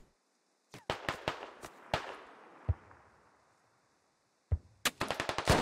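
Gunfire strikes a building in the Squad military shooter game, a burst of sharp impacts followed by scattered single cracks with a lingering echo, a pause, then a rapid close cluster of hits.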